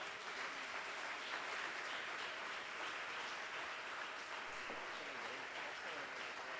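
A church congregation applauds during a sermon, producing a steady, dense wash of clapping that continues evenly throughout at moderate volume.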